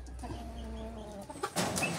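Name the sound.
hens clucking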